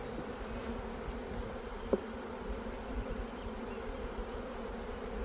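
Honeybees drone steadily from an open full-size hive during a spring colony split, a dense, even buzz filling the whole stretch with one brief louder blip partway through.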